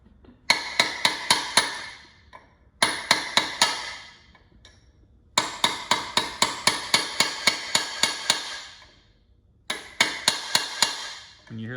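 Metal tabs on a Honda CB350 motorcycle part are hammered flat. Repeated sharp ringing blows come in four quick bursts of several strikes each, loud and close with no talking.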